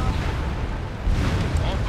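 Deep rumbling blasts and roaring noise in the Ace Combat 7 mission 'Long Day' as enemy bombers are destroyed before takeoff, a loud continuous boom-laden wash with a fresh burst midway.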